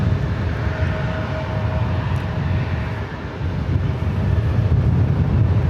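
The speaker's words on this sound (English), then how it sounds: "It's Delta A319 heading over to 24 left." A Delta Airbus A319 jet passes at LAX, its engines a steady, loud broadband roar that swells slightly toward the end, with some wind buffeting and no voices.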